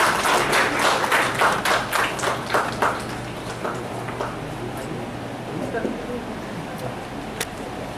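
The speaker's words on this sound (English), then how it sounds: "Can we have a huge round of applause for?" Applause from an audience at a university leadership conclave, a dense wash of clapping that is strongest at the start, then thins and fades into a quieter crowd murmur with scattered claps.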